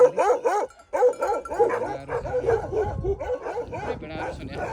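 Several Bhote (Tibetan) sheepdogs guarding a sheep flock in a remote village bark in quick, loud, overlapping bursts close by, with a few higher yips mixed in.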